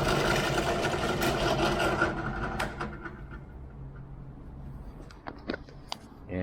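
A drill bit bores through a metal wing strut tube for a Minimax 1100R wood aircraft, whirring loud and close for a couple of seconds before spinning down, followed by light handling clatter.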